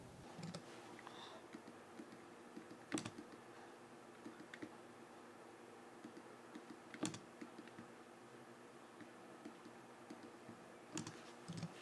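Keys pressed on a computer keyboard during Photoshop work, with a few sharper clicks standing out around three seconds apart over a faint, steady room hum. Quiet and close, with no voices.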